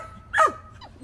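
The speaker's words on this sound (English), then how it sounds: "They're watching the big dogs." A small Havapoochon dog lets out a single sharp yelping bark up close, followed by a brief faint whimper as it plays.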